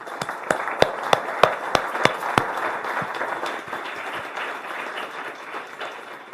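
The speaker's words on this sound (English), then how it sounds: "let us give you an applause for this great preparation." An audience at a lecture event applauds, opening with a series of sharp, evenly spaced claps close by that give way to softer, scattered clapping and room noise.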